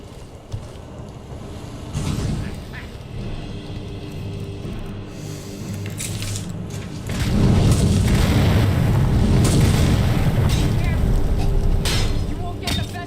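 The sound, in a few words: Flame Atronach exploding in the video game Skyrim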